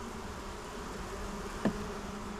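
Bees buzzing steadily around a Flow Hive and a traditional Langstroth hive, a continuous close insect drone with one brief louder pass near the end and no voices.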